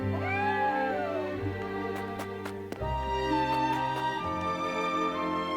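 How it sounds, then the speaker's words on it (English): A cat meows repeatedly in the Triangle Strategy game, its calls ringing out over a steady tonal music bed, close and clear. "Cat."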